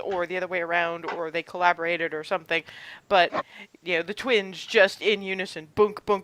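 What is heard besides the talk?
No everyday noise stands out behind the speech.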